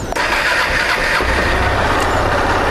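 A Honda XRE 190 motorcycle engine fires up from cold and settles into a steady, loud idle close to the microphone, a continuous mechanical drone with no talking.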